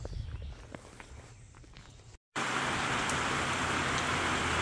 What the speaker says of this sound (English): Yep, definitely raining good now. It's coming down quite a bit.